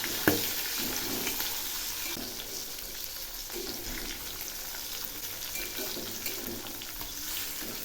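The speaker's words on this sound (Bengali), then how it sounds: "এবার আমি একে একে মাছগুলো ছেড়ে দিচ্ছি।" Catfish pieces sizzling in hot oil in a pan, a steady loud frying hiss throughout with small crackles, no talking.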